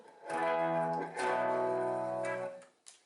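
Two sustained electric guitar chords from a high-output bridge pickup on a clean channel ring out in turn, slightly gritty and breaking up, each held and fading, with no talking.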